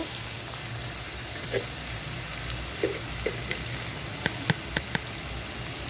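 Dried shrimp frying in a pan makes a steady, close sizzle, with a few sharp ticks and light spoon taps scattered through the second half.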